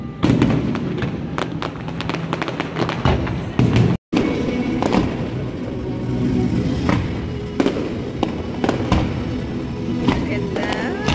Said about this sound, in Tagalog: Pero mamaya may fireworks din dyan.